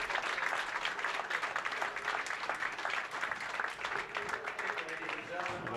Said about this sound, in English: A well-deserved round of applause.